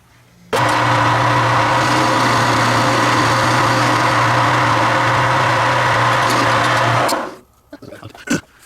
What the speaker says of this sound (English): I'm going to drill it, and we're going to cut them off.